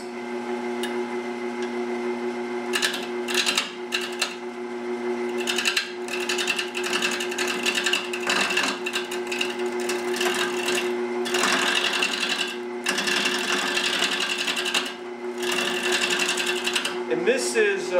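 Wood lathe running at a slow 450 RPM while turning a natural edge bowl, a steady mechanical hum with bursts of gritty cutting noise throughout and brief breaks.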